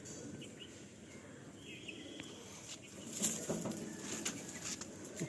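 Pigeons at a loft stir with flapping wings and a few soft coos, mid-distance, amid steady background noise, with a louder flutter of wings near the end and no talking.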